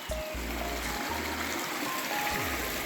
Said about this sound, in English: Got to get across the stream this morning.